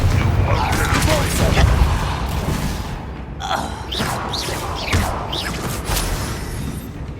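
Confringo blasting spells in Hogwarts Legacy, several sharp explosive bursts with whooshing swoops, loud and close, over a rumbling game backdrop, with a voice speaking between them.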